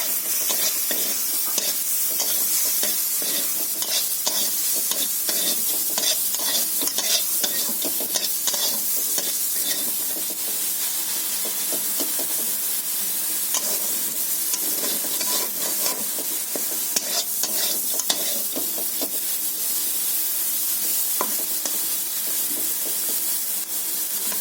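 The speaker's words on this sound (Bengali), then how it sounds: "আমার চিংড়ি মাছটা ভাজা হয়ে গেছে" Prawns fry in a pan with salt, chilli powder and turmeric, giving a loud, continuous sizzle broken by repeated scraping and clattering strokes of a spatula as they are stirred, with no talking.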